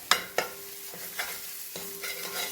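Chili masala paste, ground with onion, being stirred and sautéed in a pan for a traditional Kerala fish curry: two sharp scraping clatters followed by a steady low sizzle and a few softer stirring scrapes, close and moderately loud.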